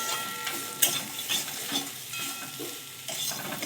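Chopped banana flower mixture stirred and lightly fried in a pan, a soft continuous sizzle under repeated scraping strokes of a spatula at close range.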